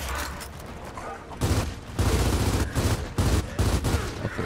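Sustained gunfire in the video game Gears of War 4, dense rapid bursts that swell louder partway through with heavy booming low end and little pause.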